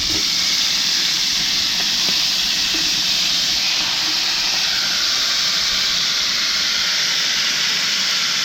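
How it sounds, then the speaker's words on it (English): Turtle meat sears in a hot pan with a steady, loud sizzle and hiss that holds evenly throughout, close up and with no voice over it. "we're gonna pan sear the meat"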